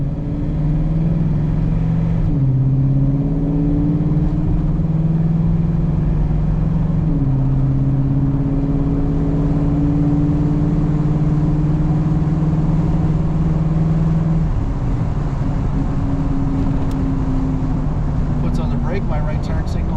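A 1940 Chevy Special Deluxe pulls up to about 45 mph, its mid-pitched engine climbing steadily through gear changes with brief dips between them. Close interior cabin sound, continuous and fairly loud throughout, with a voice occasionally talking over it.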